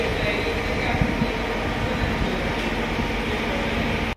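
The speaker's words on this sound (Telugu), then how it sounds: "ఇదిగండి ఆల్రెడీ ఒక ట్రైన్ కూడా వచ్చేస్తుంది." A train pulling into Palakollu railway station gives a steady, fairly loud rumble and rush that holds unbroken for several seconds before cutting off abruptly.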